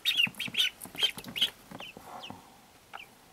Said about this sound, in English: they'll start chirping loud